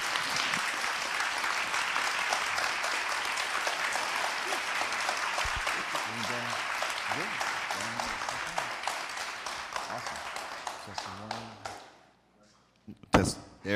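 A live audience applauds actors at the end of a play, dense sustained clapping with some cheering that thins into scattered claps before a few final loud claps near the end.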